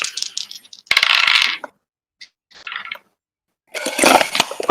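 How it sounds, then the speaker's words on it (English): Dice rolled during a tabletop role-playing game session clatter in several short, crisp bursts close by, separated by moments of silence. "My 2 dice rolls were a nat 20 and a 19"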